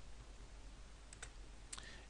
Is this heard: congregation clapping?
no